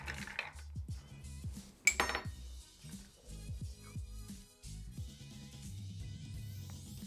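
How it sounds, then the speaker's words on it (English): A spoon stirring a Gin Rickey in a glass, clinking and scraping against the sides in short bursts with one sharp chink, close and fairly quiet over a faint background hum. "So let's give it another stir"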